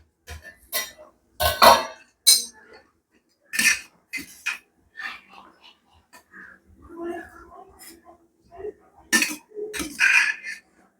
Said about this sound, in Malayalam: പ്ലേറ്റ് വെച്ചു നമുക്ക് അതിനകത്ത് ചോറ് വിളമ്പാമേ